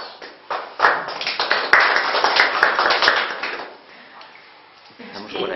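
Audience applause at a lecture on the psychology of fears, with dense overlapping hand claps building loud and steady, then tapering off toward the end; no speech heard.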